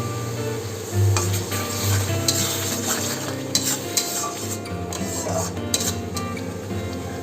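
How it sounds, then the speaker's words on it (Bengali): Spices for a chicken curry frying in a pan, a continuous sizzle with a spoon stirring and scraping against the metal, plus a few sharper clinks, close up and without talk. "মশলাগুলো ভালো করে কষানো হয়ে গেছে,"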